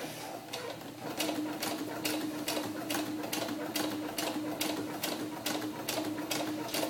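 A sewing machine back-stitches a seam on a small faux suede doll vest, a steady rapid needle chatter running in short bursts with brief pauses between them, near and continuous throughout with no talking.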